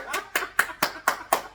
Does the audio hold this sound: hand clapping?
yes